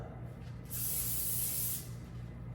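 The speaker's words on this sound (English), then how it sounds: "I'm gonna use a little olive oil spray" A short, close hiss of an olive oil aerosol cooking spray lasts about a second, with quiet room noise before and after.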